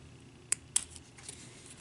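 Two sharp snips from small precision scissors trimming the antennae off a paper butterfly embellishment, about a quarter second apart, quiet and close with no talking.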